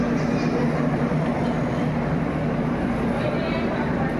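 A Shalimar Express train stands at Jolarpettai station with a loud, continuous low rumble and engine hum that stays steady throughout, with murmured voices mixed in.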